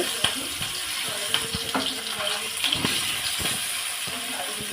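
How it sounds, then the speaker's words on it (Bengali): Pieces of katla fish fry in hot mustard oil, a steady crackling hiss scattered with sharp pops and spits, close and continuous. "এখানে আমি সর্ষার তেল দিয়ে দিয়েছি তেলটা গরম হয়ে গেছে এখন আমি দিয়ে দেব মাছের পিসগুলা"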